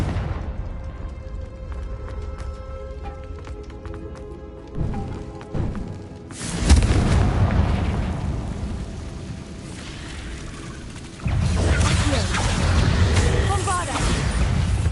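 Explosive Bombarda and Confringo spell blasts in a Hogwarts video game battle, heavy booming rumbles and crackling bursts that swell in waves across the span, with some voice mixed in.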